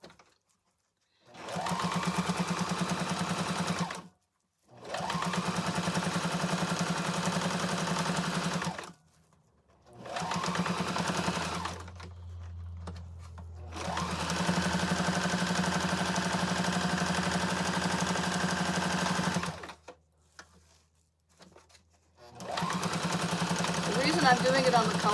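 A small old Singer sewing machine stitches through thick potholder layers in long steady runs with short pauses between, loud and close, its motor humming and needle chattering.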